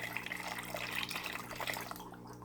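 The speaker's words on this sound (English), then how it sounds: "This is what's left of the water in the pitcher." Leftover water poured from a pitcher over clams in a baking dish, a close, continuous splashing trickle with small drips that thins out at the end.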